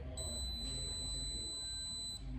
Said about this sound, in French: je vais attendre le second bip